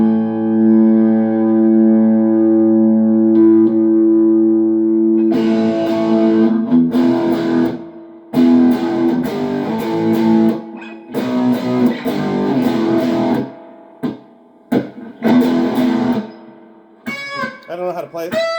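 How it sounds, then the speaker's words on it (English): Gearit GLP-100 Les Paul-style electric guitar played with a dirty, distorted tone: a sustained droning chord gives way to loud, choppy strummed bursts and short stabs, with gaps between phrases and a quick run at the end. "I'll give you just a little more dirty tone, just for you can kind of hear what this sounds like."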